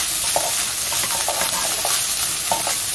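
Melon seedlings are stir-fried in a hot wok with a continuous close sizzle and quick scraping tosses of the spatula in an uneven rhythm.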